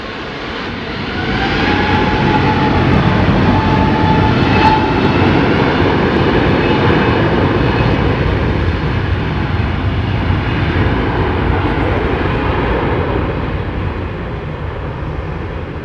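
Aircraft engines at London Heathrow Airport, a loud sustained roar that swells after the first second and holds steady, with a faint rising whine on top and no talking.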